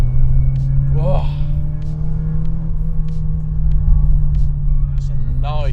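A Porsche 944 engine bellows at a low, steady drone while the car is driven, with small rising whistles on top, and someone speaks over it.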